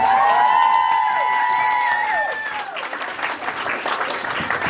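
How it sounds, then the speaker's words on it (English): Family guests at a speech gathering applaud the grandad as he rises to speak; a steady tone holds for the first few seconds, then broad clapping fills the room to the end. "Can we have a round of applause for him, please?"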